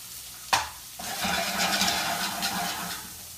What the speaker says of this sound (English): I'm gonna go ahead and throw these onions in here.